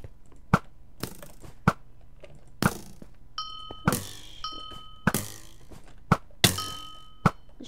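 Arrow hits landing on a player in a Minecraft match, a series of sharp thunks with ringing dings, roughly eight impacts spread unevenly over several seconds, close and distinct with no talk.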